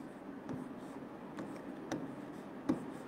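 Soft scratching of a pen writing by hand on paper during a Bengali classroom lesson, a quiet continuous scraping broken by a few sharper taps of strokes, faint and close.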